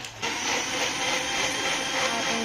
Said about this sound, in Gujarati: તો હવે તેને આપણે મિક્સરમાં ગ્રાઇન્ડ કરીને જ્યુસ બનાવી લઈશું